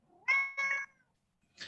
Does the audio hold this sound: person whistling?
no